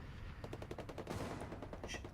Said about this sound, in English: Gunshots going in on this right hand side